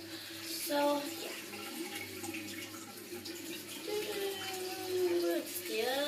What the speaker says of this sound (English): So right now the water is getting warm.